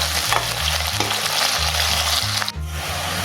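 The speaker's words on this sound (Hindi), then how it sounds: "एक साथ सब फ्राई करना है इसको लाल होने तक हम इसको भूनेंगे इसी में तेल में" Onion, ginger and garlic frying in hot oil in a pan, with a steady loud sizzle and occasional stirring scrapes. A low musical hum runs underneath.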